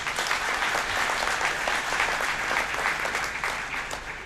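Audience at the 41st Reliance Industries annual general meeting breaking into loud, sustained applause, a thick steady roar of clapping from a large hall crowd that eases slightly toward the end.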